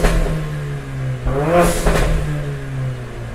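A Mercedes-Benz CLA45 AMG with an Armytrix valved exhaust, valves open, revving up hard and close, its engine note climbing in pitch then falling back, loud and raspy, with no talk.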